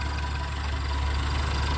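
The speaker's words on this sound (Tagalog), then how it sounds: "So, yun yung makina niya." A white 2016 Honda CR-V Touring engine idles with a steady, even rumble that holds unchanged throughout, close and moderately loud, with no talking.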